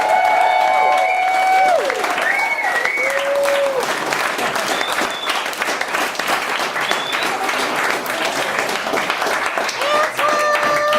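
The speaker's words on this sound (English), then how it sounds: "Everybody, please give a big round of applause for Antoine Wilson." A comedy club audience gives loud, sustained applause after a stand-up set, with whoops, whistles and scattered voices mixed into the clapping throughout.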